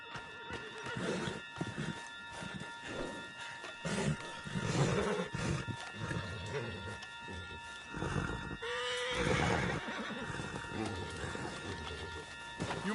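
A horse gallops and whinnies in Red Dead Redemption 2, with steady hoofbeats and loud, repeated neighs mixed with game ambience while characters talk over the action.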